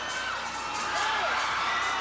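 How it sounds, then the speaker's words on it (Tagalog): Noisy basketball crowd at a Pasig game, a steady wall of cheering and shouting voices with whoops rising through it, loud and sustained. "As always, a very noisy crowd here in the city of Golden Friendship."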